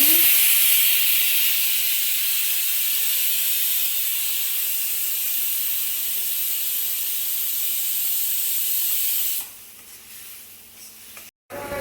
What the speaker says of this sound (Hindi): तो अब इसकी स्टीम निकाल लेती हूँ।